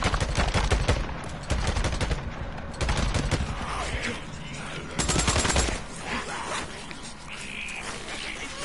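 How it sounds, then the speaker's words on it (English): Tommy gun fire in the video game Days Gone: several loud rapid bursts of automatic gunfire with short pauses between them, followed by quieter clattering and ambient game noise. "Tommy gun."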